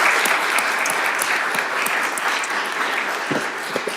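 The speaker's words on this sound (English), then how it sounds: "Can we have a round of applause for Mertice?" A group audience breaks into steady, dense applause, an even wash of clapping with a few sharper individual claps close by, sustained across the whole stretch.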